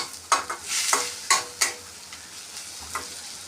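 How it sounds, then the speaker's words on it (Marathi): A spoon scrapes and stirs rava upma with coriander in a sizzling pan with several distinct strokes, close up, under a soft frying hiss. "छानपैकी असं मिक्स करून घेणार आहे"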